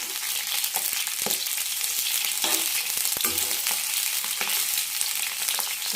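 Green chillies frying in oil for a brinjal chutney give off a steady, dense sizzle throughout, broken by occasional crackles and sharp pops as they spit in the hot pan, with no talking.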